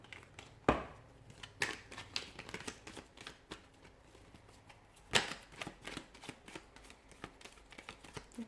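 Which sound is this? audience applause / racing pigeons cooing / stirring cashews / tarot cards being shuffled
tarot cards being shuffled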